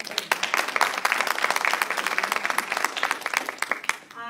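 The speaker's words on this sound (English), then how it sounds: "Can we give him a round of applause?" An audience at a leadership talk bursts into applause, dense close clapping from many hands that holds steady for several seconds and then thins out toward the end.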